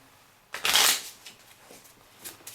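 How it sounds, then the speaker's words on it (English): Playing cards are shuffled during a tabletop board game, giving one loud riffling burst of about half a second followed by a few fainter card flicks and taps, with no talking. "so let me shuffle these up."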